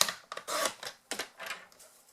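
A Stampin' Up! paper trimmer slices through three sheets of paper, giving a few quick, quiet scraping swishes and clicks in short bursts, close and without talk.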